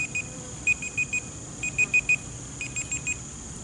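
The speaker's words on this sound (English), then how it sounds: "Alright, that's 2 minutes. We'll turn off my timer." A digital timer alarm beeps in rapid groups of four high-pitched tones, repeating steadily with short pauses, during an oxalic acid vapor mite treatment on a beehive outdoors.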